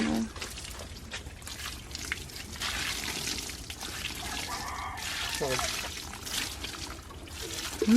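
Liquid pouring out at an outdoor riverside outing spot in the province, a trickling, dribbling stream heard under steady chatter and background noise.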